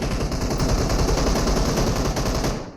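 Dense, rapid automatic gunfire from a PUBG Mobile firefight rattles on loud and unbroken for nearly three seconds, with overlapping bursts and no voices.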